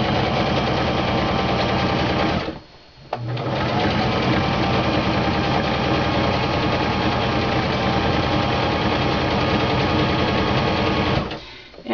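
A sewing machine stitches a Christmas stocking ornament with a regular, non-stretch stitch. The motor whirs loudly and steadily, briefly pauses near the start, then runs on before stopping at the end.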